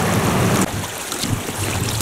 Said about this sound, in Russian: Видно прям, как речка под горку катится